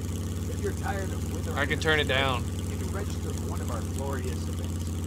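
A motorcycle engine in the survival video game SCUM idles with a steady low drone at moderate level beneath someone talking.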